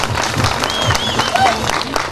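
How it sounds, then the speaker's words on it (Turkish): Crowd applause at a hamsi (anchovy) festival in Bağcılar for the head of the Trabzon natives' association, a steady dense patter with a voice speaking over it at times. "O zaman alkışlarımız Bağcılar Trabzonlular Dernek Başkanımız Sayın Ethem Coşkun için olsun efendim."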